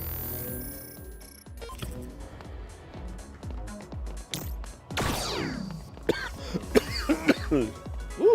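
Repeated coughs and throat clearing from a person, close and fairly loud, come in a ragged series of short bursts mixed with other scattered sounds.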